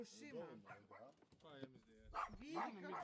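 Several neglected dogs at a rescue site bark and yip in short, close bursts, mixed with whimpers and overlapping human voices talking.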